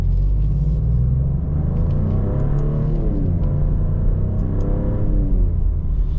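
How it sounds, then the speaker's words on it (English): A 2024 Maserati GranTurismo Modena drives with a steady, loud engine rumble, its pitch rising and falling through several smooth gear changes. "And it just shifts beautiful and easy, which is really, really nice."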